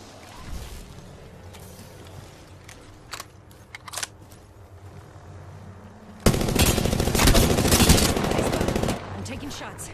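Gunfire in the Apex Legends video game: a few scattered single shots early, then a dense burst of rapid automatic fire lasting about three seconds, with faint talk and game sounds underneath.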